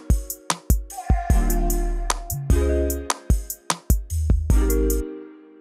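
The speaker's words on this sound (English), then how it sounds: "Let me just play the strings alone." Heard alone, the strings part of a music track is made of punchy staccato hits and plucked notes with deep low-end tails, spaced irregularly over a few seconds before stopping.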